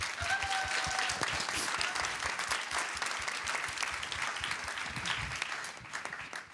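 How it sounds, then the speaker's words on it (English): A room full of people clapping steadily, dense and sustained, tapering off slightly toward the end. "So please give them a round of applause."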